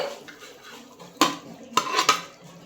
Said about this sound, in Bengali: এবার আমি এর মধ্যে বেগুনটা দিয়ে দিচ্ছি